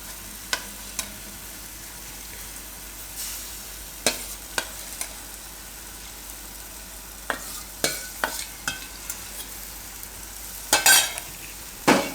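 Chickpea masala stirred in a pan over a high gas flame, with scattered clinks and scrapes of a spoon against the pot and a soft sizzle underneath, brief sharp knocks coming every second or so.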